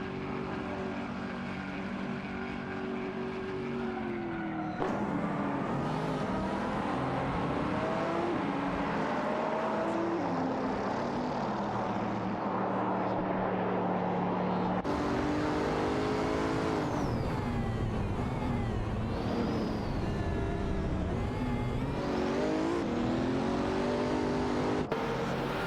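Race cars in an AI racing video game, engine tones rising and falling as they accelerate and shift, a steady loud drone of several cars with a sharp change partway through and no voices.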